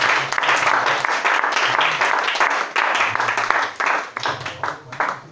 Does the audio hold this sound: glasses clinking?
no